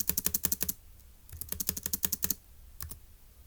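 Quick bursts of typing on a computer keyboard, crisp close key clicks in two fast runs followed by a few final taps, with no talk.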